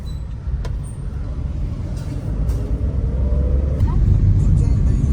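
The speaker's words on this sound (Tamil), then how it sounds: "இப்போ வண்டி ஓல்டு டயர்ஸில் தான் ஓடுது." A Maruti Suzuki Alto K10 drives on old tyres, its low engine and road rumble steady at first and then gradually growing louder, with a few faint clicks and knocks.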